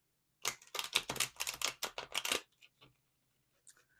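Tarot cards are shuffled up close in a rapid series of crisp riffling bursts for about two seconds, followed by a few softer taps and slides in a quiet room.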